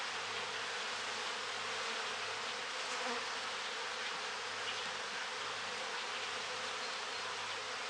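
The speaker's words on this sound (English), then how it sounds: "Just dropped a bunch of those bees on the ground right below us here." Steady, dense buzzing of many honeybees dropped on the ground during a hive split fills the whole stretch, a continuous close hum with no voices.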